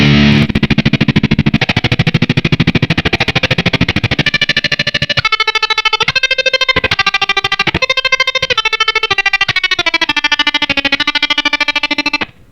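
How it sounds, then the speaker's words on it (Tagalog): A guitar played through the stutter effect of a Flamma FC05 effects pedal: sustained distorted tones are rapidly chopped on and off in a fast, helicopter-like pulsing that runs steadily until an abrupt stop. "Ganun yung tunog ng stutter."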